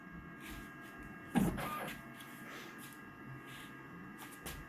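A Primera LX610 label printer primes its ink during first setup with a faint mechanical whir and one brief louder pump or click burst, then goes on with quiet intermittent motor hum.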